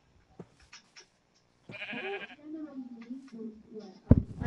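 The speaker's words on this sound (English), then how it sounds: "But there is sheep." A sheep in the Minecraft video game gives a nasal, wavering bleat, close and clear, amid sparse game sounds, followed by a sharp thump.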